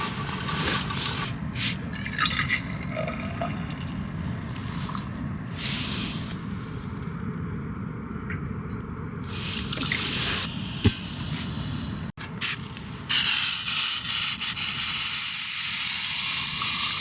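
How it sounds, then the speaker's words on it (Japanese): Water heating toward a boil in a pot on a weak gas camping stove at a winter campsite gives a steady close hiss and bubbling rush that runs throughout, with a brief dropout near the middle. "沸いてきた沸いてきた"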